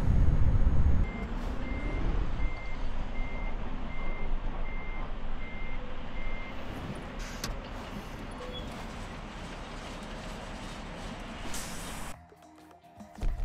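A truck's reversing alarm in Euro Truck Simulator gives a steady run of evenly spaced beeps over a low engine rumble and road noise, fading out as the engine sound drops near the end.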